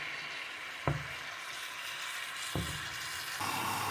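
Mutton liver fries on a tawa with a steady, fairly quiet sizzle, and two sharp scraping clicks of stirring rise above it, with no talk.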